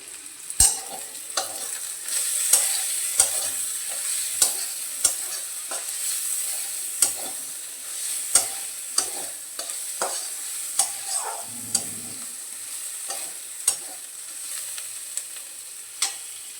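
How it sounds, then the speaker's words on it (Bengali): Onion and green chilli frying in oil in a pan for a pangash fish curry, with a steady close sizzle broken by repeated sharp scraping taps of a spatula stirring throughout; no talking. "পেঁয়াজ আর লঙ্কাটাকে ভালো করে ভেজে নেব"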